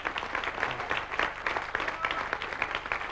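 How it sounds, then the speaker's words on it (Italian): Studio audience applause on an Italian television variety show, a brief patter of many clapping hands at moderate level with no talk over it. "Si capisce, applauso."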